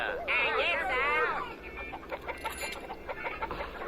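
Cartoon chickens in Motu Patlu cluck and squawk in a busy, overlapping flurry, loudest at the start and then scattered and softer, with some background voice-like noise.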